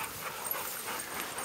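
A dog pants quickly and lets out thin whimpers at close range, a soft, steady run of breathy huffs with faint whines and no voices.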